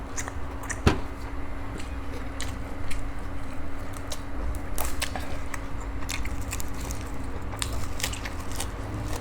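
Crunchy chewing of grilled pork intestine close to the mic, with crisp irregular bites and crackles over a low steady background hum.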